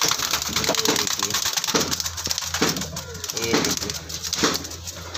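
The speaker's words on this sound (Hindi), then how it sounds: "अभी सब मद्रासी कबूतर देख लिया भैया" Madrasi pigeons coo in soft repeated low calls close by, mixed with rustling and tapping, while someone speaks briefly.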